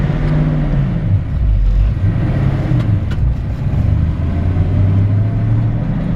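A 1957 Chevrolet 3100 truck with a manual transmission pulls hard on the road, its engine note rising and falling steadily and loudly from inside the cab, with rumbling low-end and road noise throughout.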